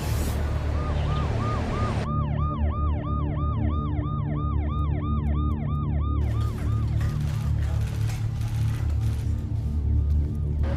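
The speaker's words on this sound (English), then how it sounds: "ambulances have been coming every few minutes" Ambulance siren wailing outside a busy hospital in Delhi, a loud, close, rising-and-falling tone repeating steadily over heavy traffic rumble, then cutting out into continuing street noise.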